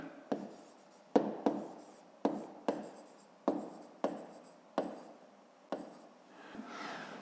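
Pen strokes on paper as numbers are written down for a fifth-grade math exercise, a series of about nine short, crisp taps and scratches spaced roughly a second apart, close and quiet, with no talking.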